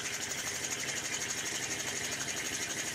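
An Empire B31 toy steam engine on a heavy cast iron base runs steadily nearby, giving a continuous fast mechanical chatter and hum at an even, unbroken pace.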